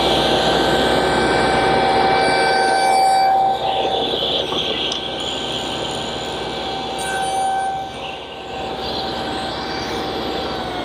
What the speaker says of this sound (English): So I've set up a stop block with the right distance from the blade and adjusted the height to 1/4 inch. I'll make the shoulder cuts first.